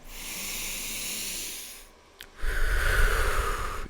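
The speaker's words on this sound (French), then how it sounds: "tu prends une grande respiration" One long, slow intake of breath fills the first two seconds, followed after a short pause by a fuller, louder exhalation that rushes out close to the microphone.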